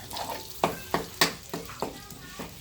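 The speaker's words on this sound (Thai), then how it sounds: "ก็ผัดพริกให้หอมเลยฮะ นี่ครับผัดให้หอมฮะผัดให้หอมเลย" Thai curry paste, two packets for a catfish curry, stir-fried in a pan; about six rhythmic spatula scrapes against the pan over a soft sizzle.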